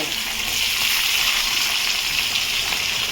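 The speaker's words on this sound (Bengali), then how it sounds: "আলুর সাথে পেঁয়াজটা ঢেলে দেবো" Chopped onion tipped onto potatoes in hot oil for chicken kosha, setting off a loud, steady, hissing sizzle that fills the whole stretch without pause and with no voices.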